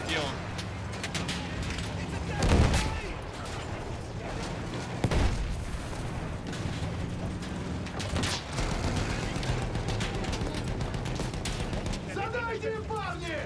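Machine gun fire in a Battlefield 1 battle, heard as a continuous din of rattling shots and booms with voices talking over it throughout.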